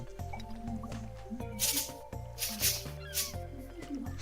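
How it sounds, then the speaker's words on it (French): Watery bubbling and squishy droplet effects from fishing in Stardew Valley come in short repeated bursts over steady background game music. "Oh, des bulles."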